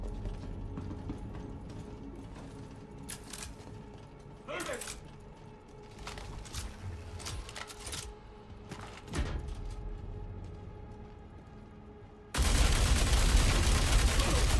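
Scattered gunshots in Star Citizen, a few sharp cracks and short bursts spread over the moment amid mechanical game ambience, ending in a sudden loud broadband roar.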